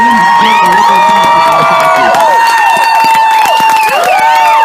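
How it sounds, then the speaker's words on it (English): Studio audience cheering and whooping at a live radio studio performance, a loud, dense crowd sound with overlapping high shouts running steadily throughout, voices rising and falling without clapping standing out clearly. "that was an okay round of applause"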